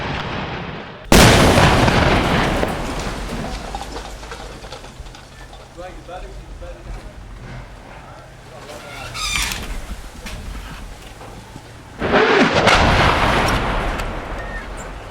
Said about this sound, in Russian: Вот рядом с нами бьет мина.